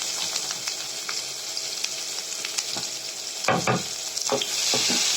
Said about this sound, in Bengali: এবারে ওই তেলের ভিতরে আমি পেঁয়াজ দিয়ে দিলাম